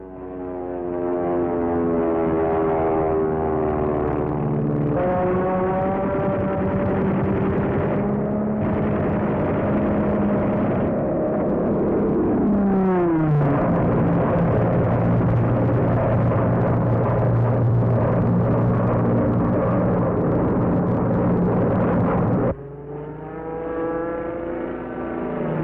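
WWII P-47 Thunderbolt fighter planes in aerial combat, a loud sustained engine roar with shifting, sweeping pitch and a sharp dive-like swoop midway, continuous and close throughout with no talk.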